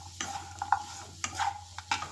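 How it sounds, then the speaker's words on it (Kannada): Bitter gourd being stirred in a pan with grated coconut, onion and green chilli for palya, a spoon scraping in a few distinct strokes over a faint steady sizzle, close and fairly quiet, with no talking. "ಮೊದಲಿಗೆ ಸ್ವಲ್ಪ ಹಾಗಲಕಾಯಿಯನ್ನು ಸೇರಿಸ್ಕೊಂಡು ಅದನ್ನು ಚೆನ್ನಾಗಿ ಮಿಕ್ಸ್ ಮಾಡ್ಕೊಳ್ತಾ ಇದ್ದೀನಿ"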